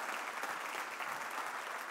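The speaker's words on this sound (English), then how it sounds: "Come on, let's give God a hand clap." A church congregation claps during a fasting service, producing dense, continuous applause that stays fairly close and even for about two seconds, with no voices.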